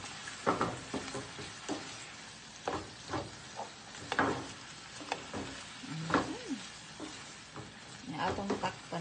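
Food being stirred in a sizzling frying pan, irregular scraping strokes of a utensil over a constant soft sizzle, close and fairly quiet, with a few faint vocal sounds.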